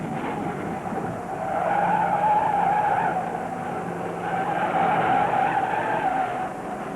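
A Dodge race car skidding out of control at Daytona during the 1971 Daytona 500, a loud sustained tire squeal over roaring engine noise that swells and dips in two long waves.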